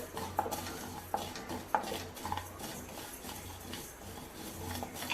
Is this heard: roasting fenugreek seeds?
yes